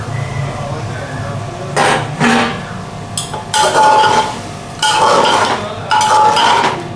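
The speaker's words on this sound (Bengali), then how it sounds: "এই যে ধুয়ে রাখা ডালটা, এটাকে দিয়ে দিচ্ছি এর মধ্যে, ধুয়ে রাখা ডালটা এর মধ্যে দিয়ে দেবো" Washed lentils for a dal aloo dish tipped into a cooking pot, with several loud clattering bursts of utensil against metal pot in spaced groups over low background noise.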